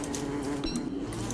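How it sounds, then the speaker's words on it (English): Bees in the game Don't Starve buzz as a steady, dense insect drone, close and continuous without pause. "There's a lot of bees around here. I can hear the buzzing."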